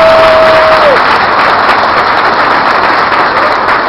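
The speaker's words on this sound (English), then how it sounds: "Let's give them all a round of applause." A large crowd at the Ohio State Fair gives a loud, sustained round of applause, a dense continuous roar of clapping from start to finish.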